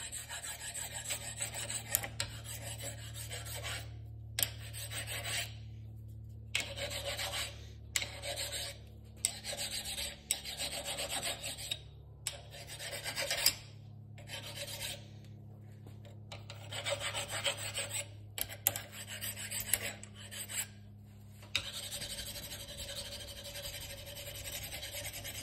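A sandstone arrowhead has its base smoothed by hand, rubbing against stone in steady, close, gritty rasping strokes. Short silent pauses break up the rubbing now and then.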